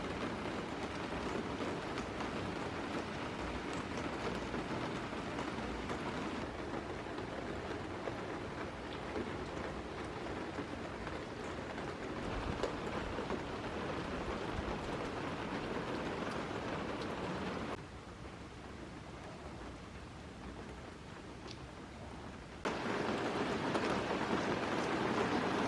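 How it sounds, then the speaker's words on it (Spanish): Steady rain falling on a winter day in Santiago, Chile, a dense continuous patter with low rumbling underneath, briefly dropping quieter for a few seconds before returning at full strength. "Amo la lluvia"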